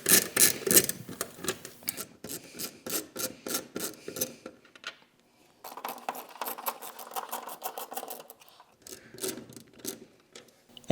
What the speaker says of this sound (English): Using a T30 Torx socket, we're gonna go ahead and remove 4 of these bolts right here that are underneath the spoiler.